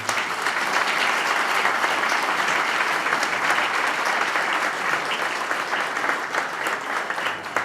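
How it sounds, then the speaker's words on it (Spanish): A crowd at a Paraguayan National Guarania Day event applauds steadily and warmly, dense clapping sustained throughout without pause. "Un aplauso para él."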